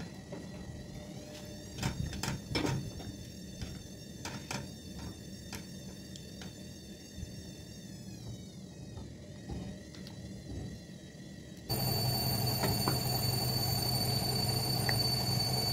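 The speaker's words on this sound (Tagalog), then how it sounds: "pasensya na sa washing machine namin, ang ingay. Nag-i-spin siya" Household washing machine on its spin cycle, a steady mechanical whir with tonal whine and thumps behind kitchen clatter, growing louder and denser near the end.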